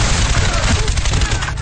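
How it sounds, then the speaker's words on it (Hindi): AK-47 rifle fire rattles in a dense, continuous burst during a commando raid on Osama bin Laden's compound, loud and close, with overlapping shots forming an unbroken roar. "AK-47 से निकलती गोलियां कमांडो के बढ़े कदम कुछ देर के लिए वहीं रोक देते हैं।"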